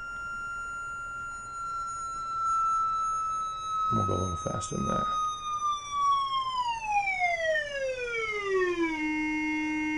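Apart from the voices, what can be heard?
synthesizer notes shaped by MFOS seven segment envelope generator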